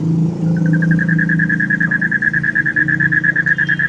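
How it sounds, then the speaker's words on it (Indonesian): A frog croaks in a rapid, rhythmic train of pulses, loud and close, over a low steady hum. "Sumpah nih kodok berisik amat ya."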